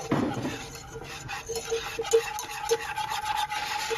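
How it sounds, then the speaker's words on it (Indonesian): A spoon stirs UHT full-cream milk into ingredients in a pot, giving soft repeated scraping and light clinks against the metal, steady and close with no talking. "Ini dimasukkan secara bertahap supaya nggak bergumpal, sambil diaduk-aduk seperti ini terlebih dahulu."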